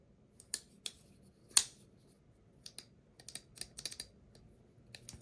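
A button liner lock folding knife gives a series of sharp, dry clicks, scattered and irregular, some single and some in quick clusters, close and fairly quiet against a silent background.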